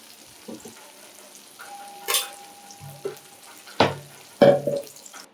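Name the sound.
paneer cubes frying lightly in oil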